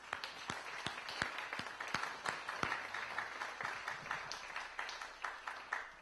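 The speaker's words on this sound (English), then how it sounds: "I would like to applaud them" Scattered applause at a university senate meeting: quiet, sparse clapping from a small group, with individual sharp claps standing out in an uneven rhythm over a soft room background.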